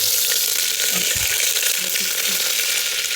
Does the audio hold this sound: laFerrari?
no